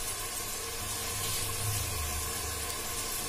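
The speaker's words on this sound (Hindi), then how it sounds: "बासमती चावल में फिर इतना पानी नहीं डलता है तो कम ही डालते हैं।" Water poured into a pot of basmati rice for cooking, a steady hissing splash of liquid that swells slightly in the middle and continues without pause, fairly soft and close.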